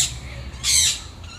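An African Grey parrot with a swollen right eye lets out a single loud, harsh squawk at close range, with faint background noise before and after.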